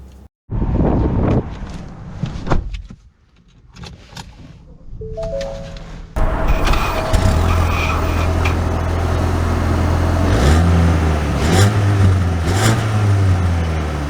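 A 2023 Ford Maverick with a turbocharged EcoBoost engine starts out with a few scattered knocks and rustles, then settles into a steady engine drone as it drives, with rising and falling tones and wind noise over the cabin.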